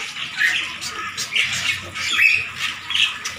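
Calak birds in a small aviary give repeated harsh squawks, about four loud calls in a row, close by over faint splashing water while the birds bathe.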